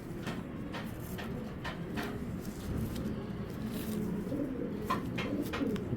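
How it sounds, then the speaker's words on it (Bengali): Low, soft cooing of a Giribaz pigeon repeating close by, with faint background noise and occasional light clicks. "কি সুন্দর বড় ঠোঁটের কবুতরটা দেখেন"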